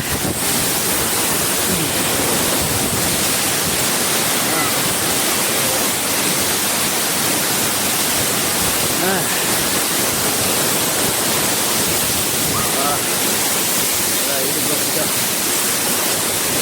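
Sungai Dua Waterfall pours in a steady, loud, broadband rush that fills the whole stretch without a break, close by and unvarying.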